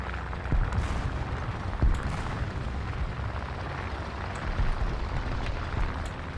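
Bombs and artillery shells explode in War Thunder tank combat, a dense, continuous rumble of booming blasts with several sharper hits standing out, loud and without speech.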